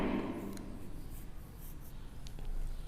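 Someone hand-writes a letter R, likely on paper: a soft, brief scratching stroke at the start, then quiet room noise.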